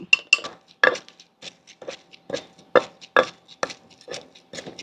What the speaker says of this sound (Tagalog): Dikdikin lang natin hanggang mapino natin yung lemongrass at sibuyas.